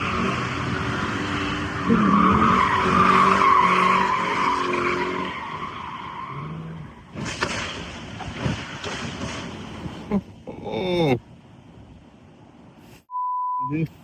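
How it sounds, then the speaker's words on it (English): A Dodge Charger doing donuts roars with squealing, skidding tires, followed by scattered engine bursts and squeaks, then a sharp electronic beep near the end. "do donuts in a Dodge Charger"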